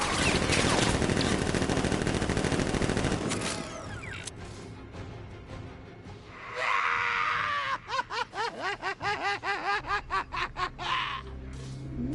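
Guards open fire with guns in Batman: Arkham Knight. A loud roar of gunfire at the start is followed by rapid rhythmic bursts of shots in the second half, mixed with shrieking, cackling voices, close and intense.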